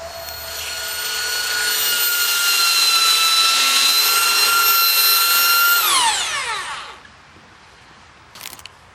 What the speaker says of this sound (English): So now I've gone to the belt sander.